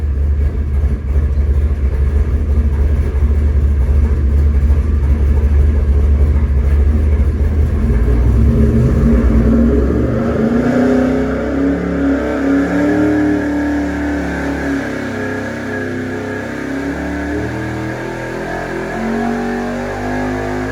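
Loud, rumbling car engine with open headers idling and revving, a deep throaty roar that shifts pitch as the revs rise and settle, close by.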